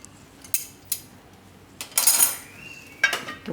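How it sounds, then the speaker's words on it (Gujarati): A knife cutting raw mango into pieces for a sweet Gujarati mango pickle, giving a few sharp, close clicks and scraping strokes on a board, some single and some in short clusters, with no talking. "તો કેરીના ટુકડા કરી લે."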